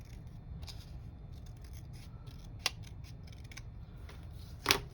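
Scissors snip along the edge of a paper scrap, a quiet series of soft, irregular cutting sounds with a couple of sharper clicks, close by in an otherwise hushed room.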